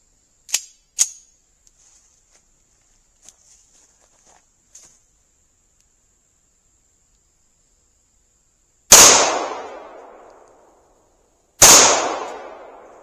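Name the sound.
rifle shots (AR, SKS) fired into a tree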